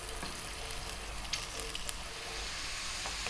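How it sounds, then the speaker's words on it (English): Green beans fry in hot sunflower oil, making a faint, even sizzle with a few soft crackles over a short stretch. "Just going to throw these around in some hot oil for about 4 to 5 minutes."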